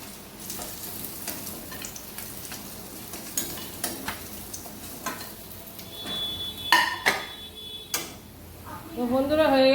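Hilsa fish frying in oil, a continuous close sizzle with ticking spatters and spoon-on-pan clinks, rising toward the end, with a voice speaking over part of it.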